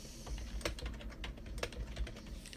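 Quick bursts of keystrokes on a computer keyboard as a power name is typed, close and crisp, with uneven clicks tapping steadily and no talking.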